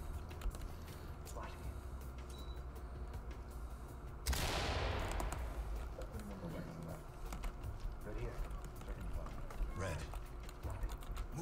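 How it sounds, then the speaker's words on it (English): Flashbang grenades going off in the tactical shooter Ready or Not, a sudden loud broadband burst that decays over a second or two amid background game noise and radio-style chatter. "Open and deploy flashbangs."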